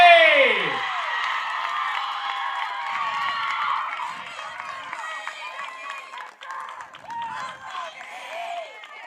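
A crowd at a Division I ECC high school softball championship applauds and cheers for the tournament MVP, a broad steady wash of clapping and whoops that starts loud and slowly thins out over several seconds.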